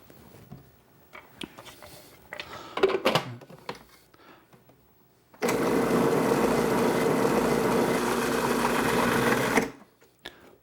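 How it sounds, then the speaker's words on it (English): A food processor blends a mixture of light sour cream and Tabasco, giving a loud, steady whir that lasts about four seconds after some quieter clatter from handling. "Okay, you want to process till it's nice and smooth."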